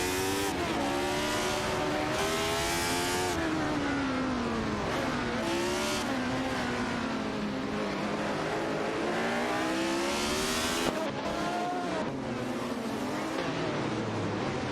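Racing cars in an AI-driven racing video game, including a Renault Alpine A442B and a Porsche 936, engines whining and shifting pitch as they rev and pass, loud and continuous with occasional tire squeal and no voices.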